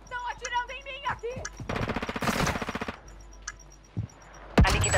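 Gunfire in the video game Call of Duty Modern Warfare II: a rapid automatic burst of close, loud shots lasting about a second, with scattered single shots before and after, mixed with game voices.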